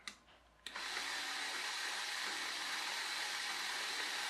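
A small electric motor and its gearing start up inside a papier-mâché model windmill, then whir steadily and evenly with a broad, hissing mechanical hum.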